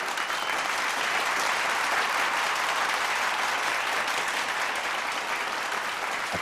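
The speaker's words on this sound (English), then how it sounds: "a deafening applause of 2 minutes followed." An American audience breaks into thunderous, sustained applause after a speaker's greeting, a thick wash of countless hands clapping at an even, loud level with no pauses.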